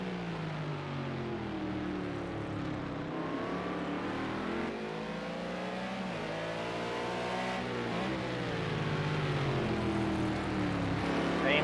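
BMW and McLaren GT3 race cars roar at speed around Circuit of the Americas in a racing game, engines loud and sustained with rising and falling pitch as gears shift, a steady close drone with no talking.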